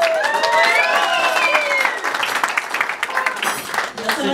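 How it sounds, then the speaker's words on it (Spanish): A crowd at a quinceañera applauds Señora Ana: a dense, loud wash of clapping from many hands, with voices and other sound mixed in and the clapping thinning out toward the end. "Un aplauso para la señora Ana."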